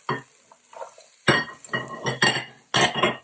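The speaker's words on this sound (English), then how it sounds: "And you want to give them a good stir" Carrot and baby corn are stirred in a pan with onion and garlic for a prawn and vegetable curry, giving a few sharp utensil clinks and scrapes spaced out over about three seconds, close up, with a faint sizzle underneath.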